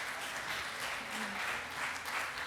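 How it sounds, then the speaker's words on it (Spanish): Lecture audience applauding during a talk on data protection law in Argentina, an even, steady patter of clapping held throughout at moderate loudness, with no speech over it. "Merece un aplauso el amigo, merece un aplauso."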